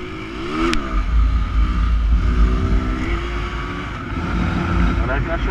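A motorcycle engine revving hard during a wheelie on a street, a loud close throaty roar that rises and falls, with a rider's voice talking over it.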